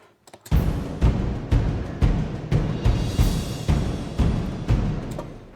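Orchestral toms pound out a steady, loud rhythm of roughly one hit per half second in an epic Final Fantasy VII battle arrangement, layered over a full ensemble with cymbal wash.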